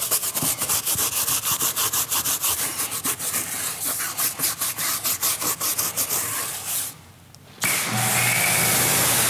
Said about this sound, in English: Scrub the wheel tire